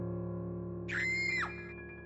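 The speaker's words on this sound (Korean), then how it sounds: "갑자기 어디선가 귀를 찢는 비명소리가 들려옵니다" An ear-splitting scream sound effect: a short, shrill, high-pitched shriek of about half a second, rising sharply and then cut off, heard over a steady electronic drone.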